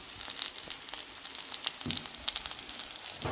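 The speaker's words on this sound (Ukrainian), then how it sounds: "Отак ну, смажу, не сильно." Steady crackling sizzle of food frying in a pan, a continuous hiss with scattered pops and a clatter near the end; no voices.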